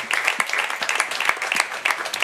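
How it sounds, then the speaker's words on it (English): An audience at a panel discussion in Berlin claps for several seconds, with dense, steady applause from many hands heard close and moderately loud. "also a round of applause for Erick."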